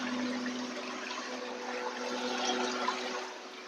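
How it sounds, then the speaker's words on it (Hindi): Water pumping and splashing inside a Kenstar 45L personal air cooler, a steady close wash of trickling water with a faint hum running evenly throughout. "ये पानी की आवाज़ सुन लीजिए"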